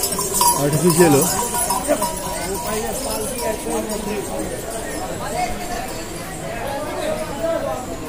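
Horses clip-clop along the crowded pilgrimage path to Vaishno Devi, their hoof beats steady but partly buried under close conversation and the general bustle of the trail.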